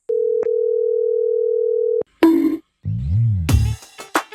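A steady telephone tone hums for about two seconds during a phone call, with a slight blip near the start, before it stops and a few short, harmonic voice-like sounds follow.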